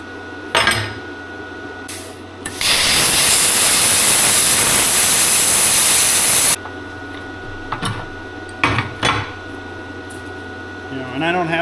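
Arccaptain Cut 50 plasma cutter slicing through metal, a loud steady hiss lasting about four seconds, framed by brief clicks and handling knocks before and after.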